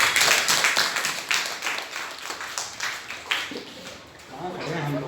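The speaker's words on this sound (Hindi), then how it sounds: "तालियां बजाओ।" Students in a government senior secondary school clapping their hands together, a brisk run of overlapping claps close by that thins out, mixed with voices talking.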